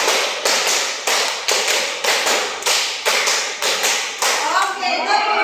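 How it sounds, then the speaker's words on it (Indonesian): A group of people clapping hands together in a steady rhythmic pattern, sharp close claps repeating in regular bursts, with a few voices briefly audible near the end. "Oke, sekarang tepuk tangan 5 tapi 3 kali ya."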